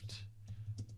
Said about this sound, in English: we have to start typing